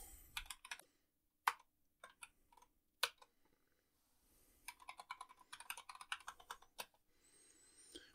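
A password is typed on a computer keyboard in quiet, close bursts of soft key clicks with pauses between the runs of keystrokes.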